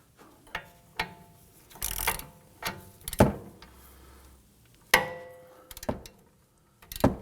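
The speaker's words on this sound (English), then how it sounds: "Let's go ahead and torque this down to 36 foot-pounds." Socket ratchet clicking in short bursts while tightening a front strut bolt on a 2003–2014 Volvo XC90, close and crisp with brief pauses between strokes.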